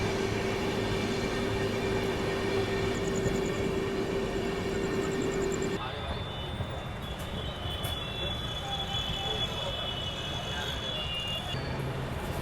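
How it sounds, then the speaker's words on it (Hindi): The Maharashtra Sampark Kranti Express rolls slowly through Udhna Junction at night. A steady rumble from inside the train carries throughout, with a high whine that stops partway through and a few faint clanks. "बहुत ही स्लो रफ्तार में उधना जंक्शन को स्किप कर रहे हैं हम"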